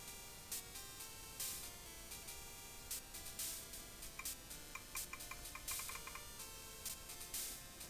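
Typing on a computer keyboard makes quiet, irregular clicks and ticks, with small clusters of quick keystrokes separated by short pauses against a faint background hiss.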